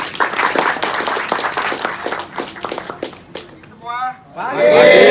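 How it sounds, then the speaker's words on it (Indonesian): Audience applause breaks out at a motorcycle racing school session, a dense run of clapping for a few seconds that thins out, followed by a brief voice and other noise near the end. "Boleh berikan tepuk tangan"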